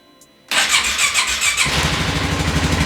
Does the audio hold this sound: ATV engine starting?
yes